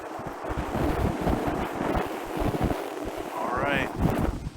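Strong wind roars and buffets continuously, with a brief whistling rise near the end.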